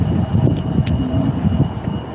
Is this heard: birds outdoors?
no